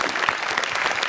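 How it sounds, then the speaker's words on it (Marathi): Studio audience applause on a Marathi comedy show, a brief dense burst of clapping. "जोरदार टाळ्या क्या बात आहे कमाल"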